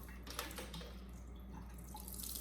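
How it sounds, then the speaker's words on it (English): Rinse water from wild hog meat is poured out into a sink, a steady close splashing pour with scattered drips and trickles, no talking. "all you have to do is just dump out the water."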